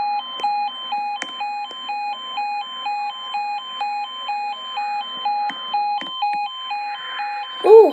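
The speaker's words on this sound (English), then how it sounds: "Listen to how loud these alarms are." Railway level crossing alarms at Field Level Crossing in Hampshire sound loud and close, a repeating two-tone wail cycling steadily, with a few faint clicks and a louder burst at the end.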